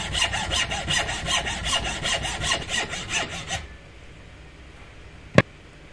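A hand saw cuts homemade brake pad material clamped in a vise, with rapid rhythmic rasping strokes for several seconds, then quiet, followed by a single sharp knock.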